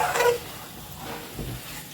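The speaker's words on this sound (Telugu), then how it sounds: "ఈ మూమెంట్లో కరివేపాకు వేస్తున్నాను కొద్దిగా" Curry leaves and chickpeas sizzle softly in hot oil for a chole masala curry, a faint steady crackle with a brief stirring scrape at the start.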